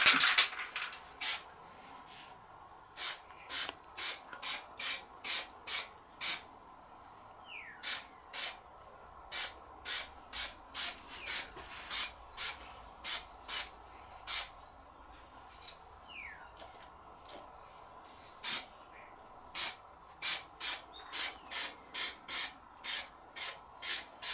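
Short bursts of aerosol spray paint hiss out in quick clusters, separated by quiet pauses, and sound close and alone.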